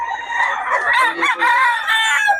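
Roosters crow loudly and close by at a market selling chickens, overlapping calls mixed with chicken clucking, with no talking.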